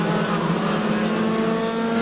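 Clubman race cars roar around a circuit at the NSW Winter Cup, a loud sustained engine drone with shifting tones from several cars at speed, without audible commentary.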